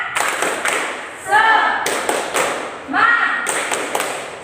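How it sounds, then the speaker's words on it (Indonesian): A group in a classroom setting does a rhythmic spirit clap, sharp clustered claps and thumps in short bursts alternating with shouted group voices. "Yuk, tepuk semangat."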